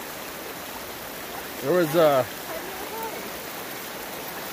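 Water rushing down Lytle Creek in California, a steady broadband wash of a fast, swollen mountain stream running throughout, with a brief burst of talk partway through.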